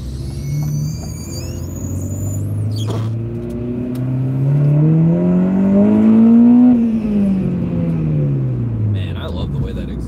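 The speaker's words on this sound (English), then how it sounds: "I love the way that exhaust sounds" A car engine revs up with a rising growl from the exhaust, peaks, then drops back down, loud and close.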